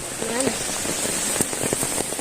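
Rain falls steadily outdoors in a dense, hissing patter with occasional sharper drips, close by, while a voice briefly murmurs in the background.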